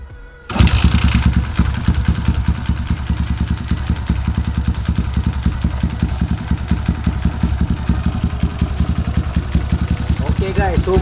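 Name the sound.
Yamaha LC135 motorcycle engine starting and idling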